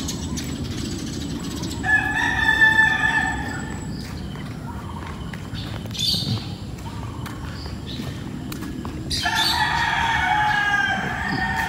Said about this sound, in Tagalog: ang narinig yung mga huni ng ibon.